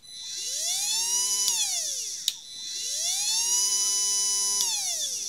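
A P.I.T. PDS20H-125A cordless random orbital sander runs up twice with a rising, steady whine, separated by a sharp click as it is switched off and back on.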